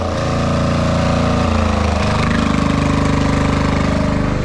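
A loud Lombardini diesel engine runs steadily at close range, blowing black smoke with the exhaust fitted, a deep rumbling idle with a rough, pulsing exhaust throb throughout.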